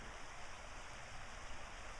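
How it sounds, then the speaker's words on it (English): A stream flows past at a bluff near Grandpa Jim Biss's place on its way to the Chesapeake Bay, a soft, steady wash of water with no break, fairly faint and even throughout. "There's all that wonderful water just going by on its way to the Chesapeake Bay"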